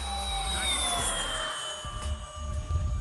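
An E-Flite A-10 Thunderbolt II RC jet with 64mm electric ducted fans makes a high speed pass, a steady, loud whining scream that holds across the clip with a slight pitch slide and no talk.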